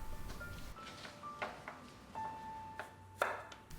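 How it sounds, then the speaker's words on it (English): Knife cutting radish into strips on a board for yellow pickled radish, a series of crisp, close chops spaced irregularly with quiet gaps between cuts. "Cut the rest of the radish pieces to make 20 radish strips total."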